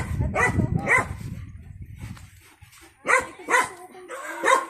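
A dog barks several times nearby in sharp, spaced bursts, with rustling and movement noise between them.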